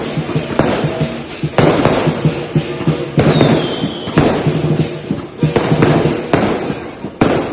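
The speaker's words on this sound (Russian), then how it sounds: "тоже с фейерверками, очень громко" Firecrackers and fireworks crackle and pop continuously with louder bangs bursting every second or so, a dense, booming barrage close by, in Singapore.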